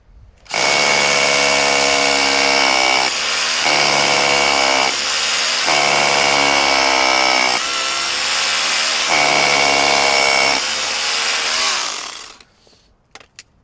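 A loud SDS drill whines continuously as a small SDS Plus bit bores into brick, its pitch dipping with brief load changes before it stops.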